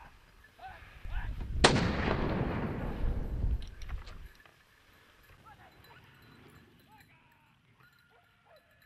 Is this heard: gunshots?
yes